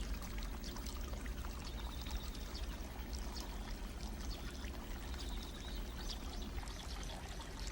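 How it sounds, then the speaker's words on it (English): Piped spring water pours continuously into a basin in a Japanese water garden, a steady, even splashing rush with no pauses and no voices. "A continuous stream of spring water is piped right into a basin, so fresh water is always available."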